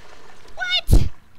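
Toilet flushing in the video game Heavy Rain, a short loud rushing swirl of water lasting about a third of a second, preceded by a voice talking.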